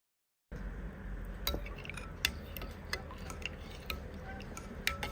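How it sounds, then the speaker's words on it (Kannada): A spoon clinks against a glass while a spoonful of soaked seeds is mixed into a thirst-quenching juice drink, with repeated sharp, light taps at an uneven rhythm over a low background hum. "ಹಾಕಿ ಚಂದ ಮಾಡಿ ಮಿಕ್ಸ್ ಮಾಡುವ ನೋಡಿ"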